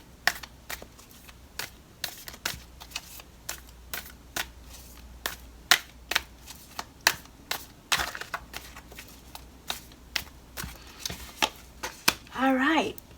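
Tarot cards are shuffled and pulled from a deck in a string of crisp, close slaps and snaps at an irregular pace, with a brief voice near the end.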